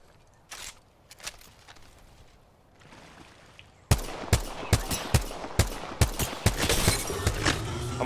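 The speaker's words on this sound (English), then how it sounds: "We're getting shot from both sides." Gunfire in the video game Apex Legends, with a few scattered shots over quiet rustling, then a sudden loud barrage of rapid, closely spaced bursts that keeps on to the end.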